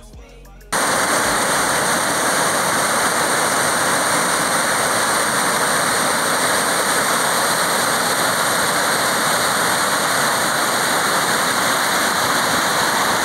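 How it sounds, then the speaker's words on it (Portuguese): A waterfall, once the town's first power plant, roars as a steady, dense rush of falling water that starts abruptly after a brief quiet moment and stays loud and unbroken throughout. "A cachoeira que foi a primeira usina de luz no município."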